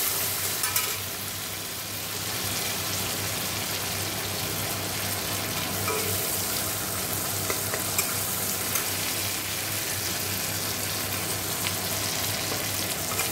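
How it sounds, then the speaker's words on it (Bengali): A tempering of onion, tomato, chili and cumin fries in oil with a loud, continuous sizzle up close, with stirring and scraping noises throughout and no voices. "এখানে পেঁয়াজ, টমেটো, লঙ্কাটা জিরে, লঙ্কা ফোড়ন দিয়ে দিয়েছি।"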